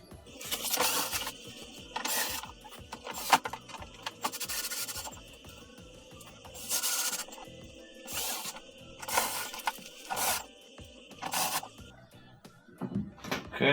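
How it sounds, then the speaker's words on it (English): Screws being driven back into a Maytag, Whirlpool or KitchenAid dishwasher control panel during repair, with repeated short bursts of ratcheting driver clicks and metallic scraping, close and moderately loud, separated by quieter handling pauses. "now it's just a matter of putting all the rest of the screws back in."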